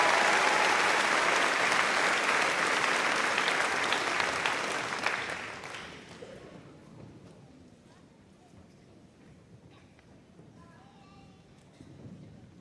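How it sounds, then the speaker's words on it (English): Loud, sustained applause from a high school graduation audience honoring graduating seniors, dense clapping for about six seconds before tapering into a quiet hall where a faint voice begins. "Let's give them one more round of applause."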